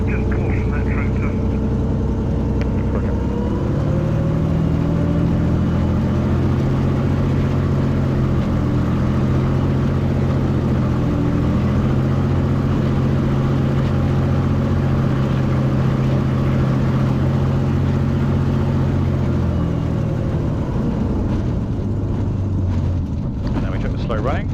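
A light aircraft engine runs continuously during pre-flight run-up checks, a loud droning hum whose pitch shifts as power changes, steady over some twenty seconds with a voice speaking over it at times.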